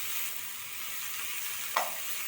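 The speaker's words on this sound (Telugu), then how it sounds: "ధనియాలు, మెంతులు, ఎండుమిర్చి వేసుకొని కొంచెం ఫ్రై చేసుకోవాలి." Coriander seeds, fenugreek and dried red chillies fry in a pan with a steady, soft sizzle, broken once by a brief sharp stir or scrape of the utensil.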